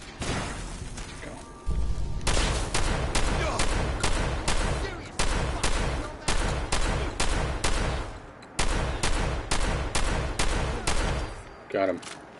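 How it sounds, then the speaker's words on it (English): A Tesla rifle fires in Fallout 4, a run of sharp, loud energy shots in quick rhythmic bursts with short pauses between volleys, close up and dominating the scene. "It's a Tesla rifle."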